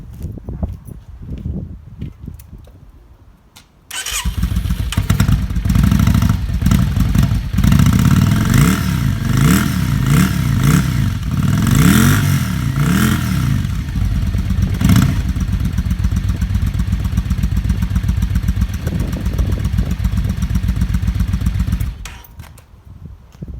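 A Yamaha XV535 Virago motorcycle with a debaffled stock exhaust starts and runs close by, a loud, steady V-twin idle with a few light revs lasting about eighteen seconds before cutting off into quiet.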